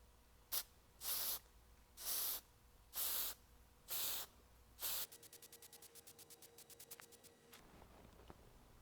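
An aerosol can of dye penetrant sprays thin coats onto a weld repair in five short, loud hissing bursts, followed by a fainter rapid rattling series, close up with no talk.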